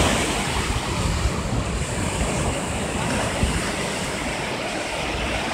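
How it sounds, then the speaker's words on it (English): Ocean surf rolls onto a Florida beach at Vero, a steady, loud wash of breaking waves mixed with strong wind buffeting the microphone, continuous throughout with no clear pauses. "Feel like you're walking on the beach."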